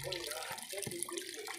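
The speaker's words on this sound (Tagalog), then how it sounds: "So antayin lang natin na dumami yung tubig sa wash tub." Tap water pours steadily into a wash tub, a continuous splashing rush that stays close and even throughout with no talking over it.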